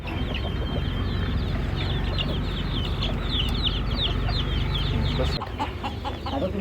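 A desi hen clucks steadily among her many chicks on a Nagpur poultry farm, with a dense layer of high, rapid peeping close by throughout and no talking.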